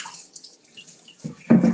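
Tap water runs into a salad bowl being rinsed before kale goes in, a soft low splashing that swells into a louder, fuller rush of water near the end, with no talking.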